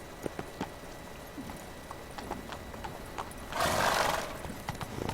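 Hooves of the horse Roach clip-clop in a quick galloping rhythm in the Witcher 3 video game, moderately loud and close, with a brief burst of rushing noise partway through.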